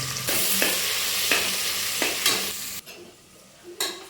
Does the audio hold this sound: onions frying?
yes